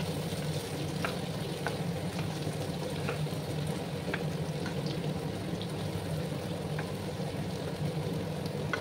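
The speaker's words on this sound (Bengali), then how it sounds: "ভালো করে কিন্তু পেঁপে আর আলুগুলোকে আমি ভেজে নেব।" Cubed papaya and potatoes fry in a pan with a soft, continuous sizzle and faint crackle, a few small ticks and pops scattered through, steady and fairly quiet throughout.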